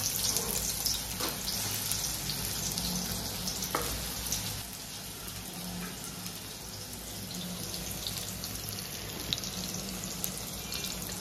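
Chopped onion frying in hot oil as the tempering for a chicken curry gravy, a steady broad sizzle running throughout with faint clinks and occasional water-like hiss, no voices.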